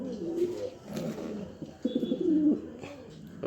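Pigeons in a loft with red-beaked, large racer birds give low, rolling coos that come in several bursts, steady and close, with faint rustling between them.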